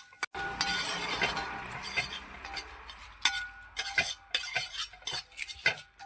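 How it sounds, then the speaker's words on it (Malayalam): Coconut and chillies roasting over a low flame in a heavy urali pot, heard as faint scraping and clinking of a metal spoon stirring against the pot in irregular close strokes, without speech. "ചെറിയ തീയിൽ വേണം കേട്ടോ ഇത് വറുത്തെടുക്കാനായിട്ട്, അല്ലെങ്കിൽ ഉരുളിയുടെ അടിയിൽ പിടിക്കും,"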